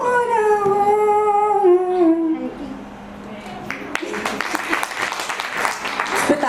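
At a first birthday party, a sustained sung note fades out, then close, lively applause from a crowd of guests breaks out and keeps going strongly to the end.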